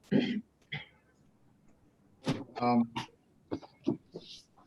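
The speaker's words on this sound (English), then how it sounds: "I get these mild bouts of coughing if I talk too much." A person coughs and clears their throat in short, separate bursts, close to the microphone, with quiet pauses in between and no talk.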